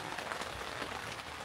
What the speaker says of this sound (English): You might be able to hear the rain is coming down now.